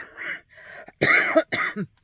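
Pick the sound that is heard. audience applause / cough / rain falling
cough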